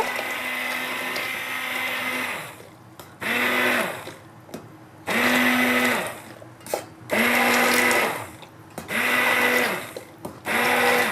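A kitchen blender whirring loudly through a creamy leek velouté soup in a restaurant kitchen, running in several long pulses with short pauses between them, close by, with no talking.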